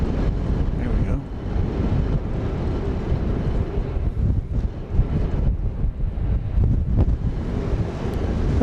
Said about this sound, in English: the wind was almost calm when we got here. It is picking up a bit